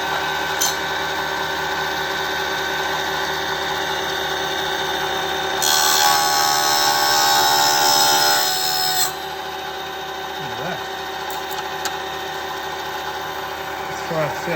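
A multi-functional table saw hums steadily, then bites into a thin piece of aluminium with a loud, bright, hissing whine for about three seconds before settling back to its motor drone.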